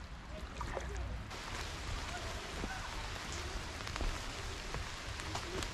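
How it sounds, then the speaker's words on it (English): Steady rain pours down at an Alaskan summer campsite near Seward, a dense, even hiss of drops on surfaces that continues without pause. "the rain has really picked up"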